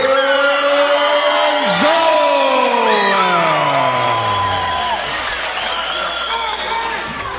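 Loud crowd at a Hawaii MMA event cheering and whooping as a red-corner fighter is introduced, with an announcer's voice sliding over the sustained roar.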